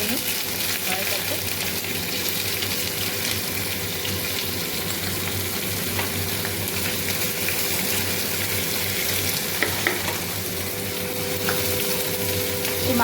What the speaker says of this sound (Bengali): আলুগুলো এখানে ভেজে নিই কড়াইটাতে।